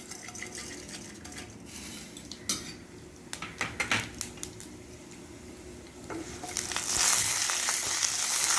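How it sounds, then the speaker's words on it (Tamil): Metal utensils clink against a pan while mustard seeds begin crackling and spitting in hot oil, the sizzle swelling louder near the end. "கடுகு தம்பு போட்டுருவோம்"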